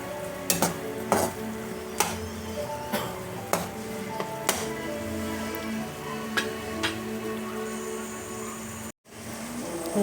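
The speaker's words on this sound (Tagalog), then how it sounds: "kulong-kulo na ang ating pork na may gata" Pork simmers in coconut milk in a pot, a steady faint bubbling under several sharp metallic clinks and scrapes of a spoon against the pot, with a brief dropout near the end.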